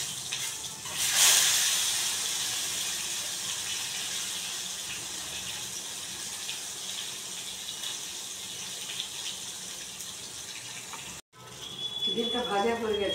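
An egg slit through the middle sizzles in hot oil with turmeric, a steady close hiss with a louder burst as it hits the pan and a brief cut near the end.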